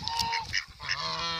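Hungry geese honk repeatedly at Parndana, several nasal calls overlapping close by at steady loudness.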